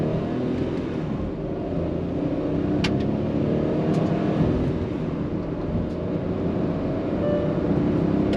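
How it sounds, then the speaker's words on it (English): A 2022 Hyundai Venue with a turbo petrol three-cylinder engine and iMT gearbox accelerates flat out from standstill, its steady engine drone and road noise heard from inside the cabin, with a few faint clicks. "Right now, I'm going to sprint from a standstill, slotting it in first, in 3, 2, 1, full pedal to the metal."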